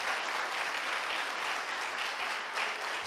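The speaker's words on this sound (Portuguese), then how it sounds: "Vamos aplaudir o nosso Deus bem forte." A church congregation applauds steadily and loudly for about three seconds, a dense, continuous wash of many hands with no pauses.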